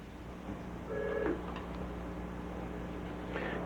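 A telephone line opens on a radio call-in show at station KTIB, giving a couple of brief electronic tones and clicks over a steady background hum, with no talking.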